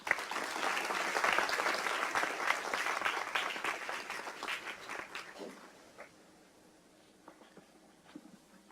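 An auditorium audience applauding to welcome Dr. Maria Klawe to the stage, a dense burst of clapping that gradually thins and fades to scattered claps and quiet room noise.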